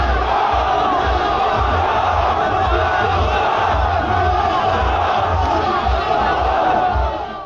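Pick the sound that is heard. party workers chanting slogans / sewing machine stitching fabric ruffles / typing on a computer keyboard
party workers chanting slogans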